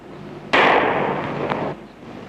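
A single loud, close Beretta pistol shot cracks out sharply, followed by a second of hissing, ringing decay with a faint tick partway through, with no voices.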